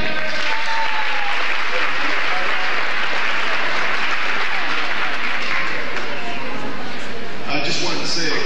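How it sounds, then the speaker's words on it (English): Wedding guests applaud a band member in a reception hall, broad sustained clapping with some voices mixed in, ending with a brief clattering noise. "Please give me a nice warm round of applause for Mr."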